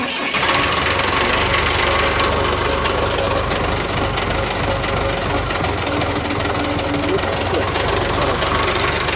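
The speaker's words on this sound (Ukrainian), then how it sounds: "Зараз Єгор заводи будемо пробувати вести" A loud diesel MTZ-82 tractor engine cranks and catches, then runs with a steady knocking rumble close by for several seconds.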